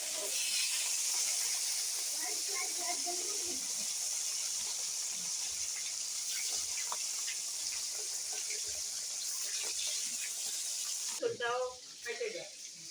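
Pieces of rohu fish frying in a large batch of hot oil give a steady, loud sizzling hiss throughout, with a person talking intermittently over the crackle and some clattering near the end.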